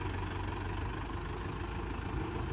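A tractor engine idles in a farm field with a loaded trolley hitched behind it, giving a steady, close, unbroken low rumble with an even mechanical throb and no voices.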